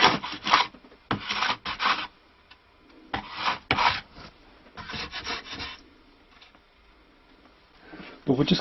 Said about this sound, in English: I'm using some abrasive paper just attached to a maple board that I've got